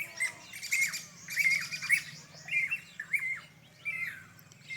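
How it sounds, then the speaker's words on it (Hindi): Outdoor birds calling in a natural setting where peafowl gather, with repeated bright chirps and squawks in short bursts over a steady low hum of background ambience. "तो यहाँ पर सभी पक्षी आते हैं"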